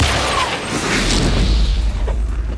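An explosion in the stealth video game Hitman, a loud, heavy boom with a broad rumbling roar that holds for a couple of seconds before easing slightly, with no voices.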